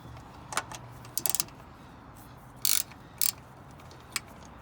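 A 14 millimeter wrench loosens Tein coilover bolts on a first-generation Scion tC, giving a few sharp metallic ratcheting clicks and short clusters of clacks close up over a steady low background, with no talking.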